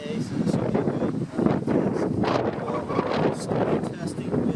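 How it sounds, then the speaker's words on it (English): Gusty wind at a model-aircraft flying field buffets the microphone in rough, rumbling bursts, loud and close, while someone talks over the noise. "As you can see, it's a pretty windy day"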